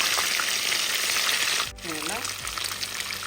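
Fish sizzling as it fries in hot oil in a pan, a steady broadband hiss with a brief dip partway through as the pieces settle, then continuing; a voice is heard briefly under the frying.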